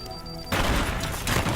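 Fire in the video game Teardown engulfs a house, rising abruptly from a quiet start into a loud, dense crackling roar with bursts like rapid popping that continues steadily to the end.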